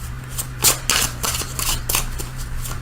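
Tarot cards shuffled by hand nearby, a series of quick papery riffles and slaps over a faint steady hum.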